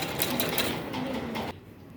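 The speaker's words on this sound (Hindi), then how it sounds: "थोड़ा सा पक्का सिलाई कर लेंगे" A sewing machine runs a quick burst of stitching on a dhoti salwar, its rapid needle clatter steady and close before stopping abruptly, leaving faint room noise.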